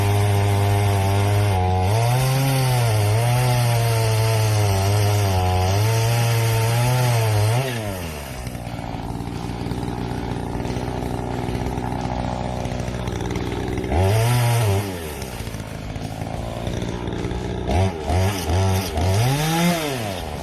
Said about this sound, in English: started cutting down some trees